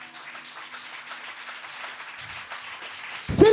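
A church congregation applauds and cheers in praise to the Lord, a spread-out wash of clapping from a crowd at moderate distance, with a louder close burst at the end.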